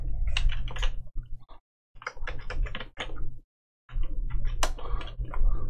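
Bursts of computer keyboard typing, quick clustered key clicks in three runs separated by brief silences, close and fairly loud with a steady low hum underneath.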